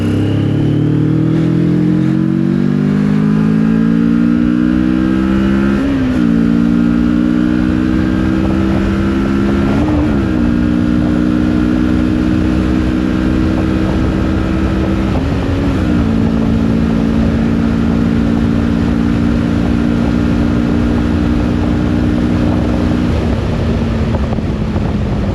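A Moto Morini X-Cape 649 motorcycle pulls hard through the gears, engine note climbing steadily with several brief dips at shifts, loud and close throughout with constant wind rush.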